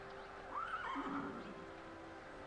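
A horse neighs once, a clear rising-and-falling whinny lasting about a second, moderately close and alone over a faint steady background hum.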